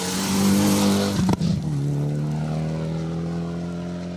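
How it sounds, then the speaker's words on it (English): Mitsubishi Evo rally car on a Yorkshire forest stage, loud engine drone with a sharp anti-lag crack and pop as it lifts off, then a steady tone fading as it moves away. "Tommy Graham, Mark Pickering bringing the 90s back with a bit of anti-lag in that Evo too"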